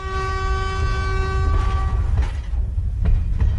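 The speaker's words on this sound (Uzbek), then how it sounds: "poyezd ovozi kelyapti. Poyezd boshqa yo'ldan kelyapti." A train approaching on railway tracks sounds a long, loud, tonal horn blast that stops after about two seconds, followed by rumbling and a few clanks of rolling wagons.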